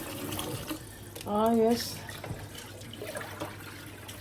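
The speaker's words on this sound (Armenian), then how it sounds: "ջուր եմ լցնում" Water pours and splashes into a pot for borscht, a running gush under brief talking.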